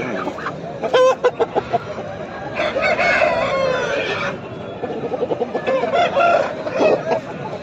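Roosters crowing and hens clucking at a pet market, loud and close, several overlapping calls in bursts with busy crowd noise beneath.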